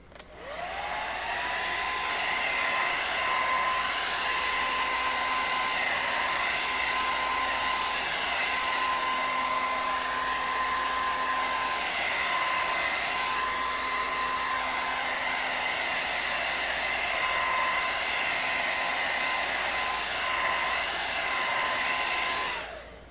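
A hair dryer blows steadily on the freshly painted feet of a Feral Ghoul miniature, a loud, unbroken whir with a constant motor hum lasting the whole stretch, with no one talking.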